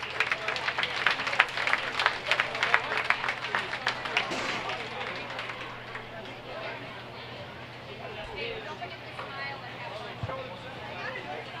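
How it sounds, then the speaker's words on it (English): A county fair swine show crowd applauds exhibitors of heavyweight market barrows, several seconds of brisk, close clapping that fades into a murmuring crowd and a low steady hum. "Let's give them a round of applause."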